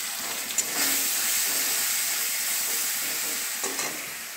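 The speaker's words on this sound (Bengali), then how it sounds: "আস্তে আস্তে আমি পেস্টটাও দিয়ে দিচ্ছি, দিয়ে এটা একটু ফ্রাই করছি।" Spice paste with cumin powder and sugar frying in hot oil for a fish-gourd curry, a steady close sizzle and hiss with a few soft stirring clinks, no voices.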